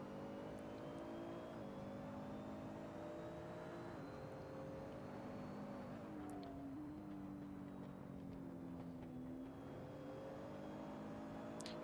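A GT3 race car engine in a racing video game drones steadily at a distance, its pitch dipping and rising through gear changes over a constant background hum.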